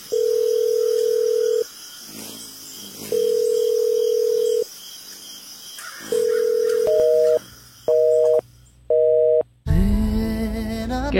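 A phone ringback tone repeats in long steady beeps, followed by a few shorter higher double tones, then a recorded voice-like message begins, reporting that the phone is switched off.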